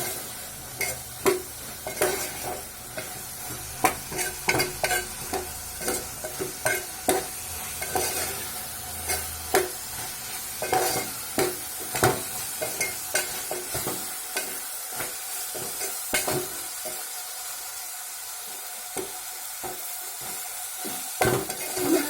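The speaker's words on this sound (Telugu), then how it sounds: "మొత్తం బాగా కలిసేటట్టు కలుపుకోవాలి." Food frying in a pan is stirred vigorously for a long stretch, a spoon clacking and scraping in quick, irregular strokes over a constant close sizzle.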